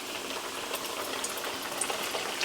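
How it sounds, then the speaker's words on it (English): Steady, dense sizzling and crackling of flatbread dough pan-frying in hot oil, continuous and fairly close, with no voices. "Flour and the oil sizzles."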